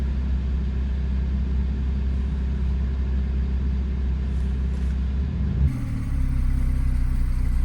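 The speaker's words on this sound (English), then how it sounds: "Do you hear the dual exhaust?" A 2019 Porsche 911 Carrera with a twin-turbo 3.0 engine and dual exhaust runs in a steady, deep, loud rumble close by, with a brief shift in tone near the end.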